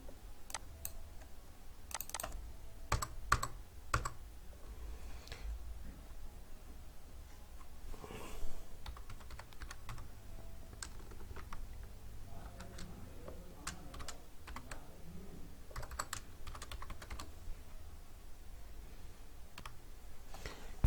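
Steady clicking of typing on a computer keyboard while entering a Python program, irregular bursts of keystrokes close to the microphone with brief pauses, over a quiet room hum.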